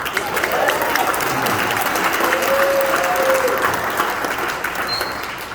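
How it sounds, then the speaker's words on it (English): Dense, steady applause from a large crowd at a Texas Rangers fanfest Q&A at Globe Life Field, sustained at an even level for several seconds before easing slightly at the end. "How about a round of applause for that?"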